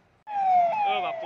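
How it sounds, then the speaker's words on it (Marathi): A police siren from a fast-moving convoy racing through the city streets in Akola, a sudden loud wailing tone that starts abruptly and holds close and strong, with traffic noise beneath. "पोलिसांच्या सायरनच्या आवाजात शहरातून वेगाने धावणारा ताफा"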